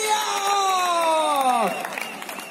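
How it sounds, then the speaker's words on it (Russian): A crowd cheering and applauding for Panama, led by a loud, drawn-out whoop whose pitch slides downward and fades, with a light patter of clapping underneath. "Аплодисменты для Панамы Россия!"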